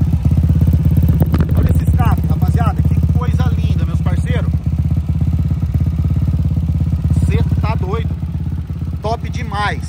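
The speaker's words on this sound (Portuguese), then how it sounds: "o barulho do escapamento é um barulho bonito, né?" A 1999 Honda Titan motorcycle with a fuel-injected engine idles loudly and close with a deep, throbbing exhaust rumble, while people talk intermittently over it.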